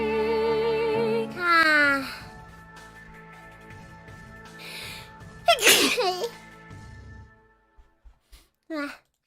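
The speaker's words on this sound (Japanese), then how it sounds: "くしゃみ出ちゃった。" A Vtuber's sneeze, one sharp loud burst near the middle, surrounded by musical tones, soft vocal sounds and a few quieter short noises at the end.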